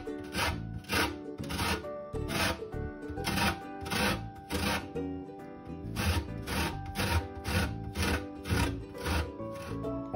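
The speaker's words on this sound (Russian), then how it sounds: "С оставшихся мандаринов надо снять цедру вот на такой вот терке. Снимаем только верхний оранжевый слой." Tangerine zest is grated off the outer orange peel on a hand grater in steady rhythmic strokes, each a short rasping scrape, close and clear with no talking.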